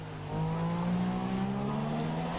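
F1 race car engine in the game F1 2017 at the Canada circuit, a steady high-pitched whine that swells slightly louder early on and holds at full throttle, close and continuous with no voices.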